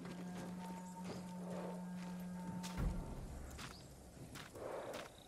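Soft, scattered horse hoofbeats in the video game Ghost of Tsushima over a low steady hum, a few muffled thuds spaced irregularly rather than a clear gallop.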